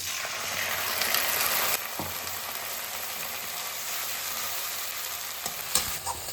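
Cumin, ginger and chili paste sizzles and fries in a pan, a steady close hiss with scraping strokes of stirring and a few sharper knocks.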